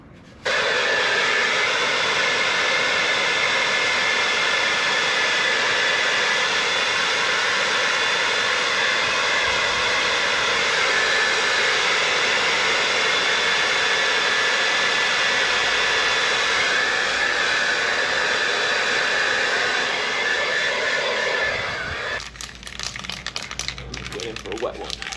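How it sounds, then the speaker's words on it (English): A hairdryer blows steadily over freshly sprayed aerosol car paint in a home garage, a loud, even whooshing drone that holds for about twenty seconds before cutting off abruptly. "Give it a little bit of a blow off with a hairdryer."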